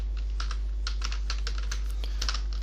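Rapid, uneven keystrokes on a computer keyboard while entering Excel VBA code for billing inventory software, close and fairly quiet over a steady low hum, with no talking.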